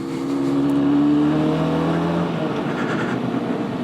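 A Harley-Davidson X 350 motorcycle eases off down a driveway, its engine hum steady and close, with a slight rise in pitch before it settles into a softer rumble.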